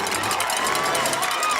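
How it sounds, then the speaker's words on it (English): A football crowd at a Creekside vs Seminole regional quarterfinal game roars and cheers steadily after a touchdown, a dense sustained wall of voices from the stands with no single talker standing out. "Listen to this crowd."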